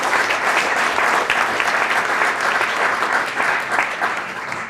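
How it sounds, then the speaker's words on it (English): Sustained applause from an audience at a 2018 MLK Jr. scholarship fund reception, dense, steady clapping honoring scholarship recipients, filling the whole stretch with no talk over it. "Can we have another round of applause for the 2018 recipients?"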